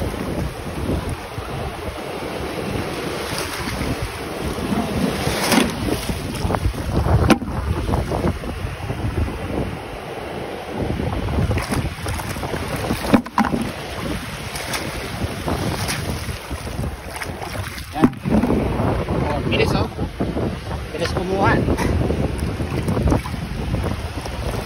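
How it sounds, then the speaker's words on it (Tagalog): Strong sea waves and gusty wind along a coast near Christchurch, New Zealand, during clam gathering, with a constant loud rushing roar, wind buffeting the microphone, and occasional heavier surges of water throughout. "Malakas yung alon."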